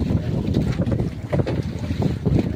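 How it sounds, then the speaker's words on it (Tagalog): Strong gusting wind buffeting the microphone in low rumbling bursts, loud and continuous, with no voices. "dahil malakas ang hangin"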